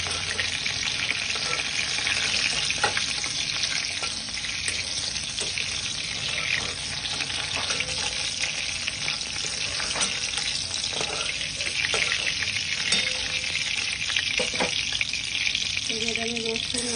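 Capsicum and carrot fry steadily in hot oil, a dense continuous sizzle with scattered sharper crackles and a few soft utensil knocks, close and loud with no talking.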